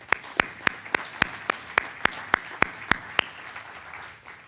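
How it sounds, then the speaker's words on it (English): About a dozen evenly spaced sharp hand claps ring out at a domestic violence panel during a PTSD conference, loud and isolated over a quiet room before fading out. "Let's give them a round of applause."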